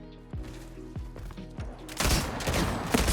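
Gunfire in the video game Highguard: a few heavy, booming single shots, then a dense rapid burst of automatic fire over the last second, loud and close.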